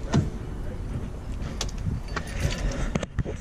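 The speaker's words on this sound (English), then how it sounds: "You can lock the doors." The power door locks on a 2018 Honda Accord 2.0 Turbo Sport actuate with short mechanical clunks, heard as a few brief nearby clicks over a low interior rumble.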